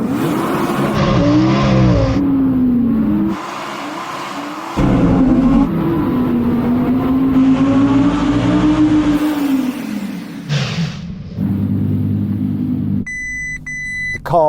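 An Audi R8 with stability control off launches at full throttle on snow in a drag race, its engine roaring loud and close as revs climb and fall through several gear changes, followed by a lower rumble and a repeated electronic warning beep at the end.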